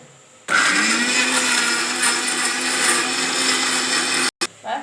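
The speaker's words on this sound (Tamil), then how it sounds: "இது தக்காளி அரைச்சிக்கிறேன்" An electric blender grinding tomatoes starts abruptly and runs with a steady, loud whirring drone, then cuts off sharply near the end before a brief restart.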